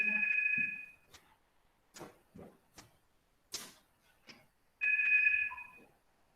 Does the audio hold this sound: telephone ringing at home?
yes